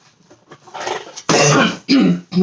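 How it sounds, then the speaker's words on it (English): A few harsh, close coughs and throat-clearing sounds, starting softly and ending in two loud, abrupt bursts. "still got that cough"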